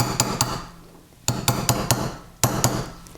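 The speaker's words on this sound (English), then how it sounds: "I'm going to use just a chasing punch and a chasing hammer. And very gently I'm going to bring this in and hammer down" Chasing hammer tapping a chasing punch against a metal bezel to fold down serrated prongs, sharp close metallic clicks in small clusters of two to four, separated by brief pauses.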